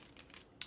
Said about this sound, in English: you can probably hear that they're very, very clicky on the 28XX